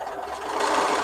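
A sewing machine putting a stay stitch into a quilt, a brief, steady, close mechanical hum that rises slightly in loudness, with no voices.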